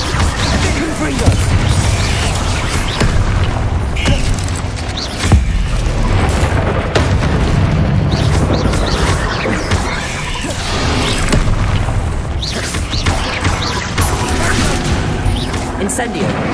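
The Confringo fire spell from Hogwarts Legacy goes off amid a dense game battle, with loud rumbling booms and crashing bursts layered over constant combat noise and music, with a player's voice mixed in throughout.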